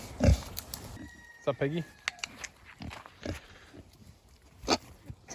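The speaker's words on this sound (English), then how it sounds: "Well, yeah, they're pigs." Farm pigs digging for bugs and roots give short, scattered grunts and snuffles at close range, mixed with footsteps and interrupted by a person talking.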